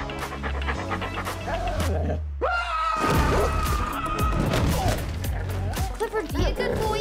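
A cartoon dog pants heavily and close by, quick, breathy huffs amid loud animated sound effects, thumps and a crash, with a brief vocal whine near the middle.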